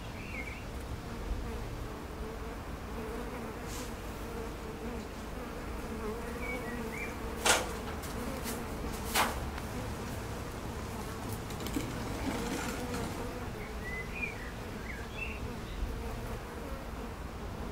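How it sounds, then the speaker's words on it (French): A steady, low buzzing of a honey bee swarm fills the air, with a few louder passes of individual bees close to the microphone. "comment attraper un essaim d'abeilles"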